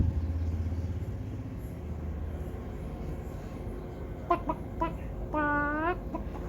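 Chickens cluck and call in short bursts near the end under moringa and palm trees, over steady outdoor background noise, with one drawn-out crowing-like call.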